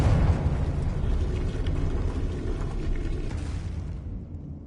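Fiery spell blasts from Confringo and Incendio in the Hogwarts Legacy video game, a sustained roaring, rumbling burst that stays loud and dense before trailing off near the end.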